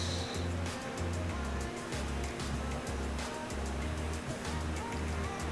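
Minecraft ocean waves roll and wash repeatedly in a steady, loud rhythm, with a constant low rumble underneath.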